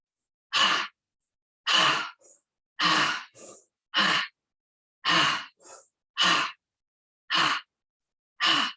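Deep yoga breaths during a slow exercise for osteoporosis: long, airy exhales, each standing alone in silence, repeating at a steady pace about every second, with fainter short intakes between some of them, close to the microphone.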